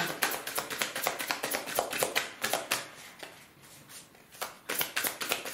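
Tarot cards are handled and laid down on a table, giving a run of quick, close, light taps and soft slaps with a short pause midway and no speech.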